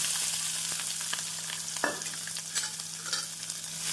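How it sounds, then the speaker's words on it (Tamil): Chopped onion and green chili sauté in hot oil for ragi vermicelli kichadi, a steady sizzle with scraping stirs from a spatula, close and continuous. "வெங்காயம் பச்சை மிளகாய் ஒரு நிமிடம் வதங்கவும்"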